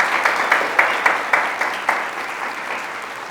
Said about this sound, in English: A big applause and a big hand to all of them